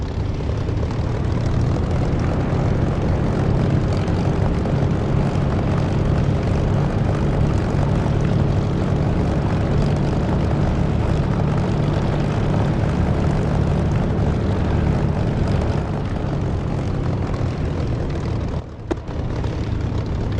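A Bf 109 propeller aircraft engine in the DCS flight simulator drones steadily and loudly for the whole stretch, with a brief dip near the end and no voice over it.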